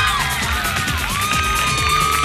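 A live studio audience at a televised singing-impersonation contest cheers and whoops for a performer, a dense continuous crowd roar alongside loud music, with no clear talk.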